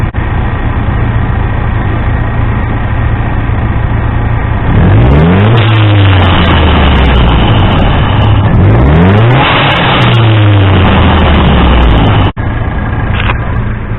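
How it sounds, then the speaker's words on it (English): A turbocharged Ford Ranger 2.3 EcoBoost engine idles steadily, then revs hard several times, each rev rising and falling, with sharp blow-off valve hisses as the throttle drops. "And I'm going to rev the engine. You'll hear the blow-off valve."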